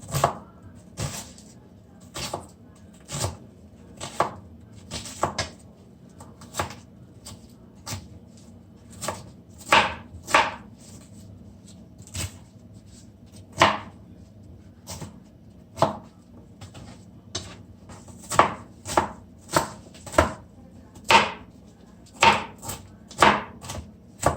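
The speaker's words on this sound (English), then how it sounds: "Be careful of the knife and your finger when you're cutting the seasoning." A knife chops seasoning vegetables on a board for stewed chicken: sharp, close, irregular thuds, some in quick pairs and short bursts, repeated steadily throughout with no talking.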